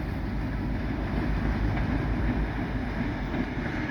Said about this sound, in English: This end of train locomotive that's coming up is on dynamics, or it'll be setting up for dynamics.